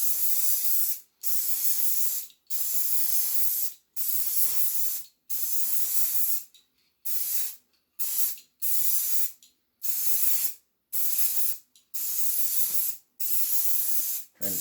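A spray coating goes onto a pinball backglass in about a dozen short, evenly spaced bursts of loud, close hiss, each lasting around a second, with brief silent gaps between them.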